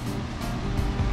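Water rushing steadily from a rain barrel through a primed sprinkler pump setup, a continuous broadband wash that stays loud and even throughout with no pauses.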